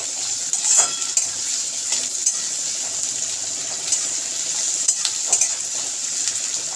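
Onions stir-frying over a high flame in a pan for chilli chicken, with a bright continuous sizzle and repeated scraping clicks of a spatula against the metal, close and steady, with no voices.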